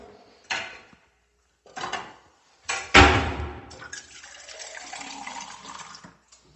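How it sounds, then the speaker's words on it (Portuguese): Tap water runs to wet a kitchen spatula used for cake filling: a few short splashy bursts, then a steadier stream of running water close by. "Com água, molhar a espátula."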